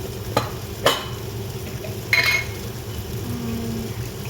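Chili powder, turmeric and masala roast in a pan for egg ghotala, a low sizzle under a few sharp scrapes and taps of a spoon against the pan, with no talking.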